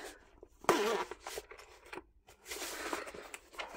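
A stuck pencil case zipper being tugged open in short, scratchy bursts, with uneven pulls and pauses as the lining catches, close and fairly quiet.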